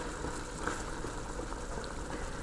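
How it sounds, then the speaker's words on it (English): Chickpea curry simmering at a rolling boil in a covered pot, a steady close bubbling hiss with small pops running throughout, no voices. "So it's boiling nicely"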